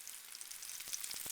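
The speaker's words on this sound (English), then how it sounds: "We're going to let these fry on each side for about 10 to 12 minutes." Buttermilk-battered chicken pieces frying in oil held below 325 degrees, giving a steady, soft, close sizzle with fine crackling throughout and no voices.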